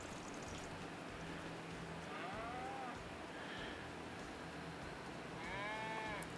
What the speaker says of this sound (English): Think we got some decent cows at the moment.